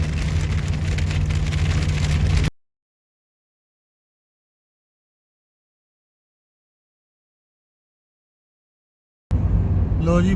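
Heavy rain on a car on the road in Abha, Saudi Arabia, gives a loud, dense rush over a low vehicle hum, heard in two stretches separated by a long silent gap.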